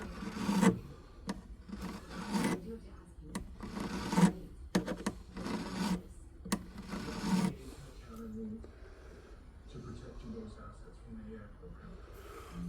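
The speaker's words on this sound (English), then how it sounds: "we're going to file it down the best we can like we did the other side" Metal file rasping down a piece by hand, a series of short irregular strokes near the microphone, then quieter scraping with a person talking over it.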